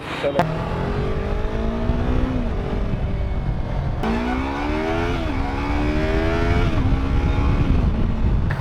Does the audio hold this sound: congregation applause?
no